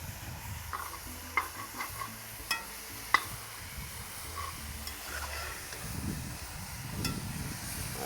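Pork sears over an open flame with a steady sizzle and hiss, punctuated by several sharp clinks of utensils early on and soft rumbling stirs toward the end, with no one talking.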